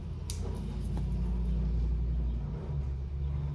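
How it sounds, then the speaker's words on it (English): Road traffic rumbles steadily in the background as cars pass, a continuous low drone with a slight swell partway through and no talking. "y'all hear all the cars in the background"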